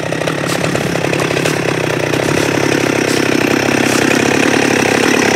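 A Husqvarna 394 chainsaw fitted with a Hyway 395 cylinder and a Husqvarna bar and chain cuts through soft maple in the woods, its engine roaring loud and steady at full throttle without a break.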